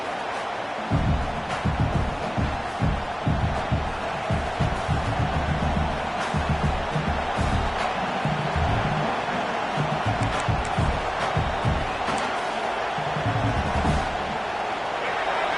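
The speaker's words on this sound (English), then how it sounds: "how nice is it to have the home crowd going absolutely bananas?" A home crowd roars at a college football game between Oklahoma and Maryland, a dense, steady wall of cheering and noise sustained throughout, heard at a distance with some commentary-like talk mixed in.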